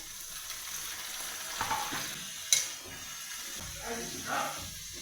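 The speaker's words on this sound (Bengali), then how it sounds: "এখন এই বুটগুলো ছেড়ে দিব" Chickpeas dropped into a hot pan of frying garlic, ginger and chilli, giving a steady sizzle with a sharp burst as they hit the oil and some stirring, heard close.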